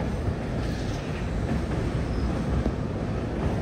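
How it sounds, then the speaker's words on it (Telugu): Steady, loud rumble and rattle of the Vikrama Simhapuri Amaravati Intercity Express, heard from on board as it crosses the Penna river bridge near Nellore, with continuous wheel and track noise and no talk. "పెన్నా నదిని అయితే క్రాస్ చేస్తున్నాం"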